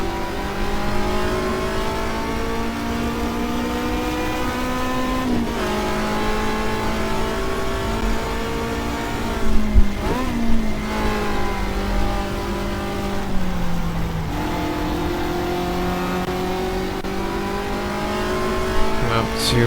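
Racing car engine from the GTR2 video game at Silverstone, a 1967 British saloon car, revving loud and steady with rising and falling gear pitches and brief tire noise, heard throughout with no talk.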